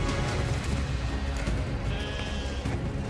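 Bighorn sheep in the wild bleat during the mating season, a loud, close, wavering call that carries over steady ambient noise, with no talk.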